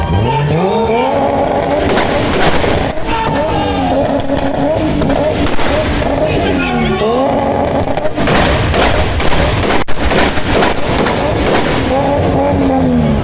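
Nissan S13 with a 1JZ engine on 2-step launch control, loud sustained revving held at the limiter with rapid crackling bangs, close and alone apart from a roaring crowd-like background.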